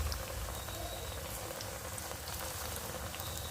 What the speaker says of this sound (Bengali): তো দেখো আমি বেগুনগুলো ভাজছি, কত সুন্দর হচ্ছে বেগুনগুলো।